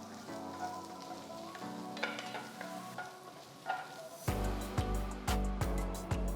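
Chopped garlic, ginger and sliced onion are stirred in hot oil in a pan for an Indo-Chinese chicken stir fry, a soft sizzle at first, then louder hissing with rhythmic scraping stirs near the end.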